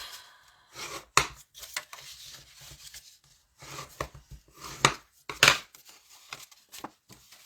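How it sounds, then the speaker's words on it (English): Paper pieces for a box are burnished along their score lines, heard as close, dry rubbing and scraping strokes in separate bursts with short quiet gaps, some strokes sharper and louder than others. "Burnish your pieces, your score lines."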